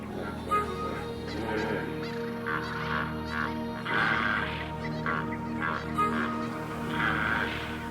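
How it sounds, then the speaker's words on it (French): Birds in the South African bush call repeatedly with loud, honking cries in bursts, over a steady low background hum. "Le bush brise des gazouillis, sifflements et trilles incessants des oiseaux."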